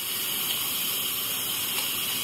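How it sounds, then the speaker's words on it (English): Steam hissing steadily from the valve of an Instant Pot electric pressure cooker during a quick release, a continuous loud rushing hiss with no talk. "The recipe called for quick release for steam."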